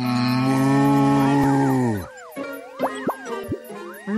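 A cartoon cow in The Garfield Show gives one long, loud, low moo lasting about two seconds and falling in pitch at the end, followed by quieter springy, bouncing cartoon sound effects.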